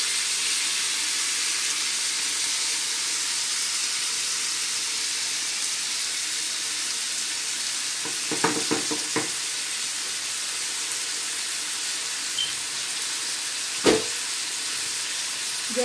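Lamb chops laid over onions in a hot pan, with the grilling juices poured in, give off a steady broad sizzle throughout, broken by a few sharp crackles and pops near the middle and toward the end.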